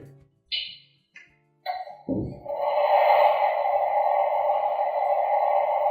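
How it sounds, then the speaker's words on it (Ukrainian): Toy kitchen range hood sound effect: a few short electronic beeps, then a steady whooshing fan-like hum that runs on evenly and close. "І, звичайно ж, звук витяжки."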